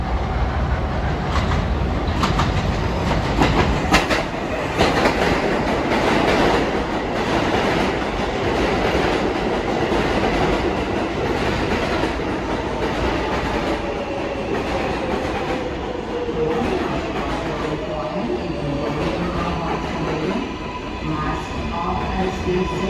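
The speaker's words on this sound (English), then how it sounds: "This is a Flushing Main Street bound 7 local train." An R188 New York subway 7 local train bound for Flushing rolls through an elevated station at 33rd Street–Rawson Street during the morning rush, a loud, steady rumble with rhythmic clickety-clack and brief wheel squeal, no voices heard.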